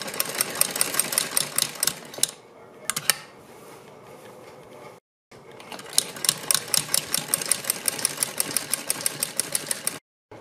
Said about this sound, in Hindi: इसको भी अंदर को फोल्ड करके इस तरह से इसके ऊपर सिलाई लगाएंगे